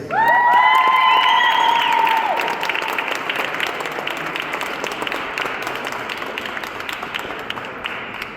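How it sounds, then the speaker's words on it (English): A crowd claps and cheers at a boxing press conference in Albuquerque, opening with loud shouts and whistles over dense applause that gradually settles into steady clapping. "Ladies and gentlemen, make some noise for Gary Lewis."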